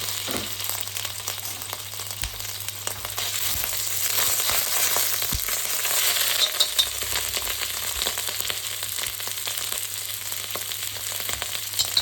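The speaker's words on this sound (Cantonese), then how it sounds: "而家呢個鑊又紅咯喎，我呢俾啲油落去啦，係咪？ 咁呢，就將啲牛肉擺落去。" Marinated beef sizzles and fries in a hot oiled wok for a beef ho fun stir-fry, a steady loud crackle with occasional scraping stir noises and no talk.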